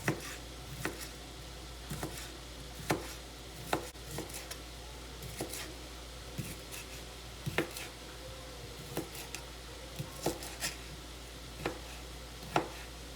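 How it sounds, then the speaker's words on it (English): A knife dices sausage on a cutting board with sharp, irregular chopping taps, faint and close over a steady low background hum, with no talk. "I'm going to go ahead and start dicing up the sausage so I can add that in as well."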